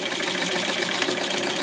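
A domestic sewing machine runs steadily, stitching a fold on a Barbie doll's tweed skirt, with a continuous close, even motor whir and no pauses or voices.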